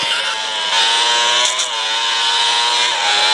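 A motorcycle engine in GTA drones loudly and continuously, holding a steady buzzing roar with slight rises in pitch as the bike rides along, with no speech over it.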